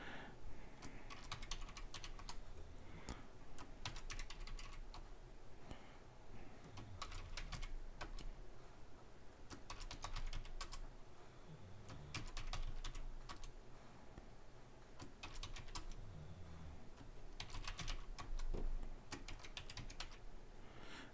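Names typed on a computer keyboard during a live coin roll box pull show: steady, close clicking of keys in quick bursts with short pauses, continuing for some twenty seconds with no talking.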